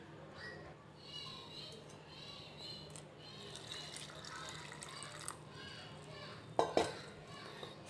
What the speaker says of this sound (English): In this we have to add 2 cups of water.